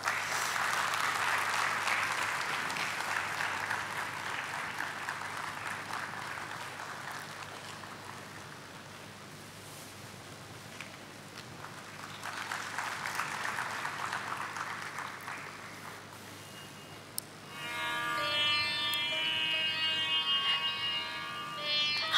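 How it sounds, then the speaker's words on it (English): A large audience claps steadily to welcome a speaker onto a dais at a spiritual talk, with broad continuous applause that swells again midway and ends under a bright musical chime passage. "So let's welcome Jayanti Didi onto the dais with round of applause."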